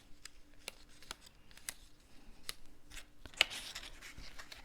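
Paper pop-up card pieces for a haunted-themed card being creased and folded along score lines, giving soft, faint crinkles with several sharper clicks and snaps spread irregularly through the quiet.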